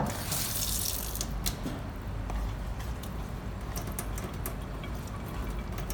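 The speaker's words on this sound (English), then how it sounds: "So I'm going to add some water." Water poured into a bowl of dental stone mix to make a thick batch, a steady close-up stream of pouring and splashing liquid heard alone with small drips and clicks.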